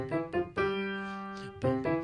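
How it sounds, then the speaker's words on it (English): Piano playing the opening notes of When the Saints Go Marching In: a pair of short notes, a long held note, then more short notes, clear and alone with no talking. ""Oh, When the Saints Go Marching In," which sounds like this"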